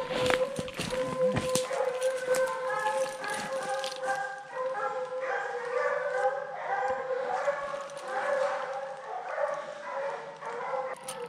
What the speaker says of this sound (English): Got some of my dogs and dad's dogs.